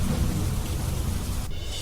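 Heavy monsoon downpour with thunder in Aravalli district, Gujarat: a dense, steady roar of rain over a deep low rumble, loud and continuous throughout, with a slight shift in texture near the end.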